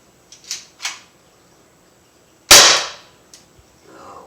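Umarex SA-10 .177 caliber pellet air pistol fired outdoors: two quick light clicks, then one sharp loud pop of the shot with a brief tail, followed by a faint click and soft rustle.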